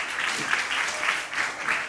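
A school audience gives sustained, even applause for the vice principal at a student startup-club business plan presentation, clapping continuous from start to finish.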